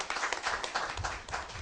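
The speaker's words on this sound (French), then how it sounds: "Applaudissez" An audience at a press conference claps, a steady burst of moderately loud applause that runs the whole brief moment without pause.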